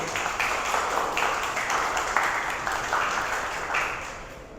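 An audience at a university poetry lecture welcomes guest speaker Alberto Garrido with warm, even applause that carries on for several seconds and eases slightly toward the end.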